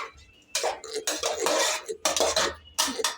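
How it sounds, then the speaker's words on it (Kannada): A spoon scrapes and clatters against a cooking pot while curd is stirred into chicken biryani, in several loud, close bursts separated by short pauses, with no talking. "ಈ ಥರ ಮೊಸರು ಹಾಕಿ ಈ ಥರ ಸ್ವಲ್ಪ ತಿರುಗಾಡ್ಬೇಕ್ರಿ ರೀ"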